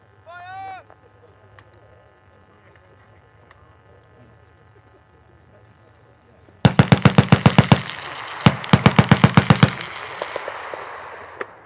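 A Vickers machine gun fires two long rapid bursts on a range, loud and close with hard rhythmic reports and ringing echo, after a quiet stretch with a brief squeak at the start.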